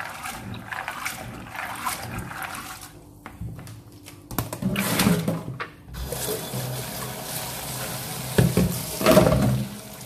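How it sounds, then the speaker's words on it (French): Fermented maize rinsed under running water for a maize porridge, with irregular splashing, sloshing and clattering in a kitchen sink that come in bursts with short quieter gaps. "Voilà notre maïs bien lavé après 3 jours de fermentation."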